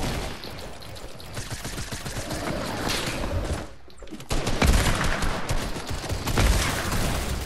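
Dense, continuous gunfire from a Fortnite match, rapid overlapping shots filling the whole stretch with a brief lull near the middle before the barrage resumes louder, close and harsh.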